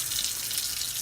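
Hot water rushes steadily from a tap in a tiny house, a close, continuous hiss of flowing water for about a second.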